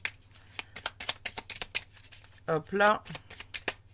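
Oracle cards being shuffled and cut by hand, a quick run of crisp flicking riffles and taps with a brief whirring riffle near the end, close up, while a person speaks briefly.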